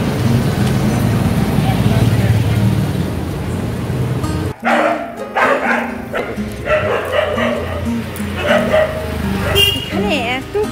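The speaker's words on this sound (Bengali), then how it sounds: "এখানে এত কুকুর" Several street dogs bark and yip close by on a road, sharp repeated barks breaking over a constant wash of traffic noise, with some human voices mixed in.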